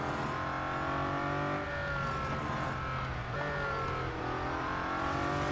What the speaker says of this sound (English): I've been racing two very fast supercars.